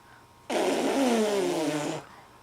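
A small child imitates an elephant with one loud, rough trumpeting blast about a second and a half long, close to the microphone in a quiet room.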